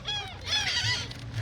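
Seagulls on Clearwater Beach give harsh, honking calls, several overlapping squawks close by and fairly loud, with no talking.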